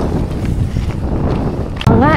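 Winter wind blowing outdoors in Canada, a loud rumbling buffet across the microphone that jumps in force near the end, with voices briefly audible.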